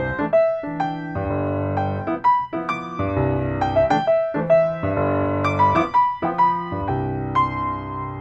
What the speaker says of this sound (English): we can improvise over a chord progression using basic patterns and repetition just playing the arpeggio